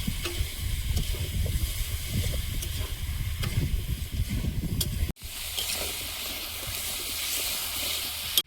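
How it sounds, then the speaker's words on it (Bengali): Cauliflower and potato sauté in a pan with ginger, cumin, green chili paste, turmeric and salt, giving a steady sizzling hiss and stirring scrapes that cut off abruptly, then a quieter hiss continues. "ফুলকপি আলু কষিয়ে নিয়েছি"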